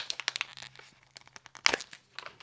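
A COVID-19 rapid self-test kit pouch is torn open by hand, close-up crinkly rips and plastic crackles in quick bursts with a short pause, no talking.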